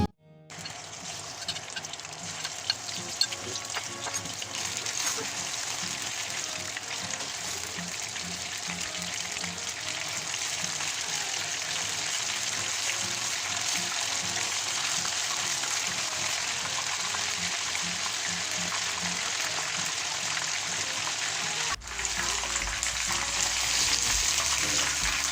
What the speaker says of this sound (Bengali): তেল গরম হলে আমি মুরগিগুলোকে দিয়ে দিচ্ছি। এগুলোকে আমি ডিপ ফ্রাই করে নিব।